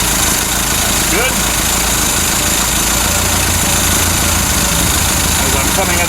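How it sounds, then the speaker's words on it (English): A Ford Capri MKI engine idles steadily at close range, a constant low drone under a dense hiss, with someone speaking briefly over it. "As I'm coming up the temperature, my idle's smoothing out."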